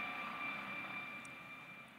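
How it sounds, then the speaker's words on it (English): A helicopter passing overhead, a low, steady engine drone from a distance, a continuous whirring hum that fades slightly toward the end. "I know we're waiting for the helicopter to pass through."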